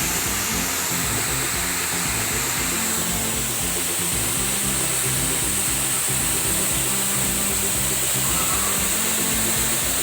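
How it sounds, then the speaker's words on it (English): One of Grenada's tallest waterfalls pours in a loud, constant roaring rush, a dense unbroken hiss and rumble that stays steady throughout. "Hey Mary, this is one of Grenada's tallest waterfalls"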